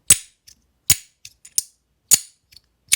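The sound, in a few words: copper fidget slider snapping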